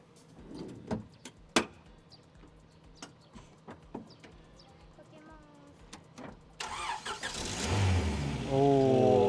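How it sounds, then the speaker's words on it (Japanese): Scattered clicks and handling noises give way to a Honda Integra Type R with a stock muffler starting up, then revving and settling into a loud, close idle. Voices are heard in the background. "じゃあせっかくなんでエンジン音も聞いてみたいと思います。"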